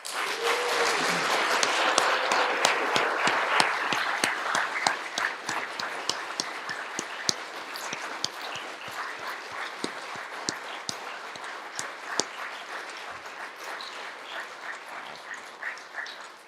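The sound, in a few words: audience applause for Eagle Scouts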